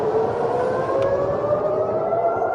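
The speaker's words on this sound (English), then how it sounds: "You can hear the sirens." Air raid sirens wail steadily at a distance during an attack with interceptor launches and explosions, pitch gliding slowly upward over a dull background rumble, with no voices.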